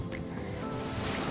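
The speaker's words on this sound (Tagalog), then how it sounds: "Sobrang lakas ng alon." Strong ocean waves at a beach resort in Pangasinan give a brief, faint, low rushing wash of surf.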